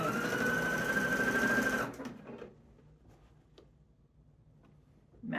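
A sewing machine stitches pieced quilt panels made of small squares, running in a loud, steady whir for about two seconds before stopping abruptly, leaving near quiet with a few faint handling sounds.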